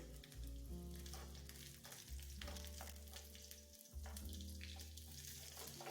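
Spice tempering sizzles in hot oil for sambar, a steady loud frying hiss close by with steady tonal background music and no talk.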